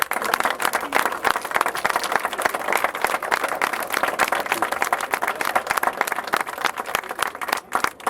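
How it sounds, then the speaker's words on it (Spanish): A festival crowd at the Fiesta del Asturcón applauds for Pedro Teixidor with dense, sustained clapping that stays loud and steady throughout. "Un aplauso para Pedro Teixidor."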